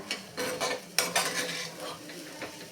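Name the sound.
stirring crushed chili and ginger into vatli dal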